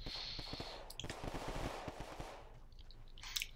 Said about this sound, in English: I really think these fireworks are kind of annoying